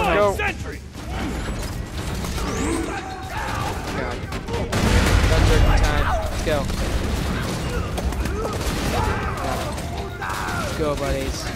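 Shotgun blasts and weapon handling in the co-op shooter game Borderlands 2, mechanical clicks and gunfire mixed with busy game sounds while players talk over it.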